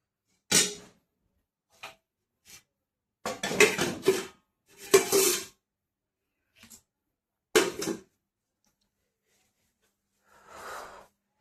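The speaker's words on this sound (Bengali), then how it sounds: "এই জন্য আমি ভাত বাড়ি খাচ্ছি" Rice being served onto a plate at home, with sparse bursts of dishes and cutlery clattering, several short close clinks and scrapes separated by quiet gaps.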